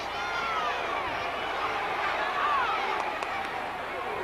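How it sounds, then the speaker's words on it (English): A wrestling crowd on its feet in an arena, a steady dense roar of cheering and shouting that holds for the whole stretch, with a brief knock or slap near the end. "this crowd is still on its feet, urging both men on"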